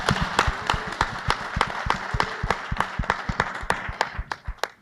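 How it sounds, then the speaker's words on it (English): An audience applauds students at a Black Learner Excellence Summit at City Colleges of Chicago: a steady, moderate round of many hands clapping with distinct sharp individual claps standing out, tapering near the end. "I just really would like to give them another round of applause"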